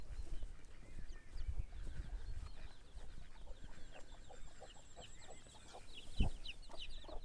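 Hens clucking in short repeated bursts at moderate distance, over a low rustling farmyard background, with one brief thump near the end.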